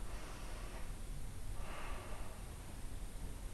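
A storyteller draws two soft, breathy inhalations before beginning a Valencian children's tale, quiet and close against faint background noise.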